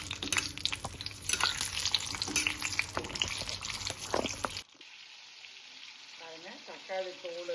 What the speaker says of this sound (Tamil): தக்காளியெல்லாம் வந்து வணக்கிக்கலாம்